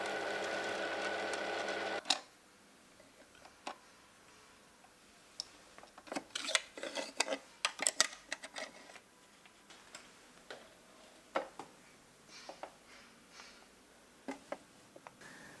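A 40-year-old household sewing machine stitches in short, uneven bursts of rapid ticking and clacking, each followed by quiet pauses, close and clear after a brief louder passage at the start.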